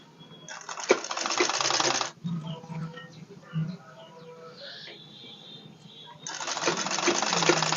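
A sewing machine stitches the folded hem of readymade jeans in two quick runs of rapid, rattling needle strokes. Between them is a quiet pause with a few soft clicks and handling sounds.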